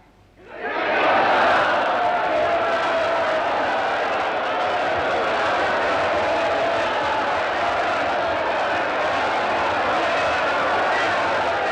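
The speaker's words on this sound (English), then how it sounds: "Right, cheer!" A large crowd of film extras on set swells into loud, sustained cheering and shouting after a brief quiet start, holding a dense roar to the end.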